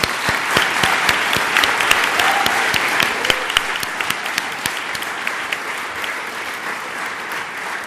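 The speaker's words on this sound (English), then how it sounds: "I'd like to hear a round of applause for both teams." Steady audience applause for both teams at a debate final verdict, many hands clapping densely and evenly throughout, with a faint voice or two underneath.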